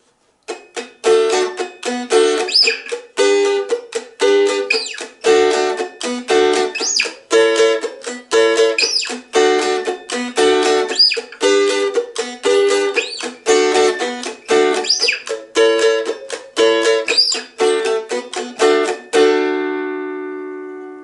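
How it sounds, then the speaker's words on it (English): A Fender Loog mini guitar is strummed close up in a steady, syncopated Bo Diddley rhythm of choppy chord hits that changes chords through the passage. It ends on a single ringing chord that fades out. "that's how you can use the Bo Diddley strum in a song"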